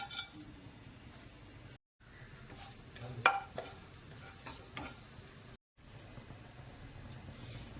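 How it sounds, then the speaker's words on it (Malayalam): Whole cinnamon, cloves and cardamom dropped into hot coconut oil in a pan for a beef stew give a soft, quiet sizzle, with a few scattered stirring clicks and two brief dropouts to silence. "എണ്ണ ചൂടായിട്ടുണ്ട്. ഇനി പട്ട, ഗ്രാമ്പു, ഏലക്ക അത് ആദ്യം ഇടാം."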